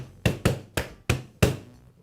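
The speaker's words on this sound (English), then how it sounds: "I'll give it a tap with a rubber mallet to make sure it's seated in place." Rubber mallet tapping the end housing of a Milwaukee hammer drill, five close, solid knocks in quick succession, evenly spaced and fairly loud with no other sound.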